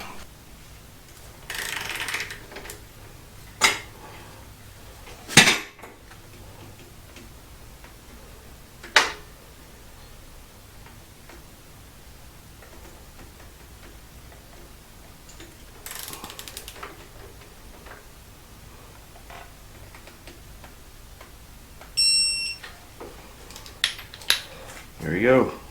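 A torque wrench tightens the swing arm pivot nut on a Honda Magna motorcycle, with sparse ratcheting clicks and metallic clinks spaced over a quiet stretch, ending in a sharp click burst.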